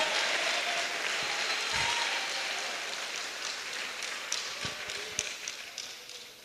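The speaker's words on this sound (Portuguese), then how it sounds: "Pode aplaudir e aproveita e dá um brado de vitória bem forte." A congregation in a church service applauds, a dense steady patter of clapping that gradually thins into scattered, sharper individual claps toward the end.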